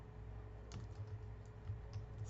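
Keys clatter softly on a computer keyboard as someone types, a quick irregular run of light clicks, faint and close, with no voices.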